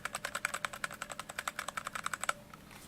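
Rapid, regular keystrokes on a loud mechanical computer keyboard during a relaxed PC gaming session, about two dozen crisp clacks in a steady run that stops abruptly near the end, close and alone.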